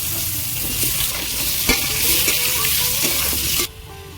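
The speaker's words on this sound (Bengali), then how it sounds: "এবার আমি আলুগুলো ভেজে নেব" Potatoes frying in a pan for aloo bhaja, a loud steady hiss of sizzling oil with occasional stir knocks, cutting off sharply near the end.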